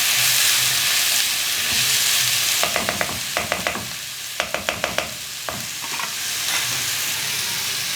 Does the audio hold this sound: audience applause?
no